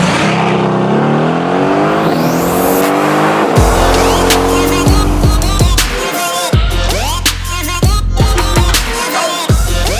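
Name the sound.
2021 Mercedes-AMG GT Stealth Edition Roadster driving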